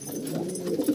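Old desi pigeons coo inside a loft, a low soft burbling that swells briefly near the end, close by and without speech.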